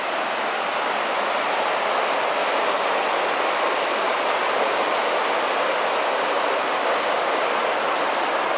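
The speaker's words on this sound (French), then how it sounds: "écoutez le bruit de la rivière, de l'eau" A river in Scotland rushes continuously, a steady broad hiss of flowing current with no voices.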